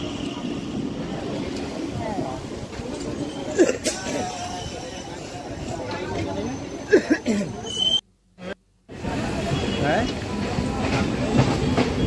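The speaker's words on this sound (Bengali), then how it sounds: "এই আমাদের ট্রেন এসে গেল, এটা হচ্ছে ডানকুনি লোকাল।" A Dankuni local train pulls into Bally station with a broad rumble and rail clatter, close and loud. People talk on the platform over it, and the sound cuts out briefly near the end.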